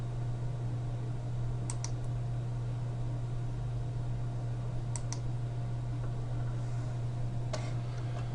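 Three sharp computer mouse clicks, spaced a few seconds apart, stand out over a steady electrical hum while working in Adobe Audition software.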